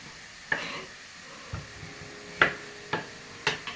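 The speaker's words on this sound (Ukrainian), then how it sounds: "Поки пасирується цибулька, я наріжу кубиком моркву і картоплю." Onion sautés in a pan with a quiet frying hiss, while several sharp, separate knocks and taps of stirring or utensils land at irregular intervals. No one speaks.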